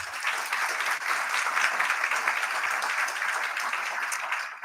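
An audience at an aviation gender summit in Durban applauds the Deputy Minister, a dense, sustained round of clapping from a large crowd in a hall, fading slightly at the end.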